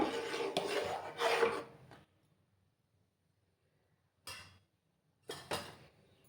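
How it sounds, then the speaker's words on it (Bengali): A spoon scraping and rasping through rice and jaggery kheer in a cooking pot, in two longer stirring strokes followed by two brief scrapes after a quiet pause. "আমি অনবরত নাড়াচাড়া করে যাচ্ছি"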